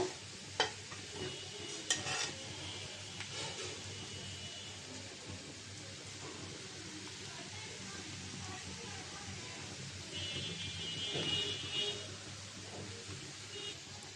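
Small red potatoes frying in mustard oil in a pan on a stove, a steady low sizzle with occasional stirring clinks, fairly quiet and continuous throughout.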